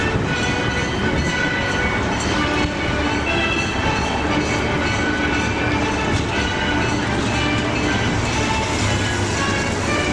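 A Conch Train tour tram rolls along Main Street during Daytona Bike Week, a steady dense rumble of wheels and motor with rattling carriages, loud and continuous from a rider's seat, no talk over it.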